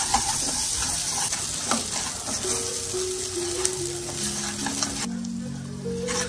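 Mutton masala gravy sizzles and fries steadily in a pan while being stirred, a continuous close crackle with faint scraping, no voices.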